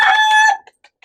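A loud gamecock crows once in a sustained, harmonic call at an illegal cockfight, then trails off into a few faint clucks and short sounds.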